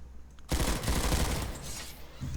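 A rifle in Planetside 2 fires continuous rapid shots with recoil control for about two seconds, loud and dense after a quiet start, then trails off into a softer shot near the end.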